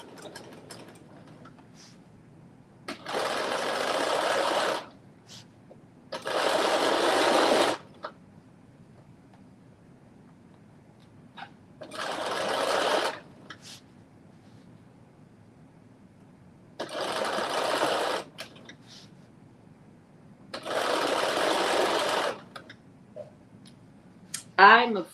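A sewing machine stitching a 5/8 inch seam on a McCalls 8370 garment, running in five short bursts of a few seconds each with quiet gaps between, close and steady in tone, with speech nearby.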